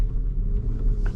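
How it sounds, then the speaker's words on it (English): An Audi S5 Avant mild hybrid's engine starts up while the car drives through city traffic, giving a steady, low, muffled rumble throughout the short stretch, with no voices. "There, that engine turned on"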